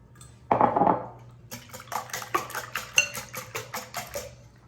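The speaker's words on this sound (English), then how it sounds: "So you take 4 eggs. Just gonna beat those up." Four eggs beaten in a bowl with a utensil for bread pudding, a quick run of rhythmic clinking taps against the bowl following an initial louder scrape, close and fairly quiet with no talking.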